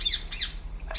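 A bird in the video game Republique Remastered gives several sharp, shrill squawks in quick succession, close and fairly loud, with no talk over them.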